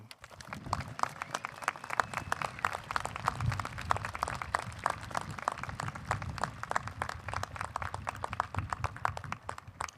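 A crowd applauds continuously at a college graduation ceremony, dense and steady clapping from many hands that stays even throughout, heard from a moderate distance.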